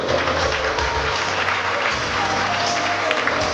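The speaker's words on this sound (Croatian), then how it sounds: "Aplauz, aplauz, tako je." A crowd applauding, dense steady clapping that fills the whole moment, fairly loud and close, with a few voices mixed in.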